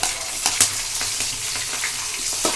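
Cumin, mustard seeds, curry leaves and green chillies frying in hot oil, a steady close sizzle broken by sharp pops and spatters and occasional light stirring knocks.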